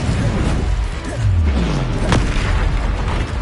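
Incendio fire spell cast in the Hogwarts Legacy video game, a loud whooshing burst with a booming impact over dense, continuous game effects and sweeping tones, no talk.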